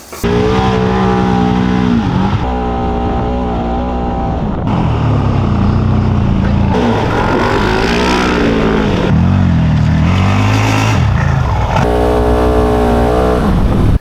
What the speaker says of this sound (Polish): Zabraliśmy ze sobą dwa pojazdy SSV Segway v sx SX10X oraz CF Moto Z-Force Sport 1000R